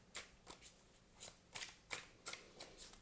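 Tarot cards are shuffled close by, a series of soft, crisp riffling bursts repeating in an uneven rhythm, faint and quiet with no talking.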